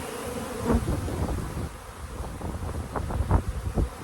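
A honeybee swarm buzzes close by outdoors, a dense steady hum with individual bees zipping past and some wind noise buffeting the microphone.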